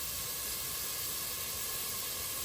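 A pan of food sautéing in heavy cream gives off a continuous, even, close hiss of sizzling that stays level throughout and has no talking over it.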